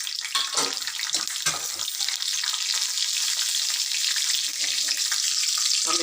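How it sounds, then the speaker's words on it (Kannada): Cumin seeds dropped into hot oil for palak dal, a loud, close, continuous sizzle and crackle that starts with a few sharp pops and settles into a steady frying hiss. "ಜೀರಿಗೆ ಹಾಕ್ತಾಯಿದ್ದೀನಿ."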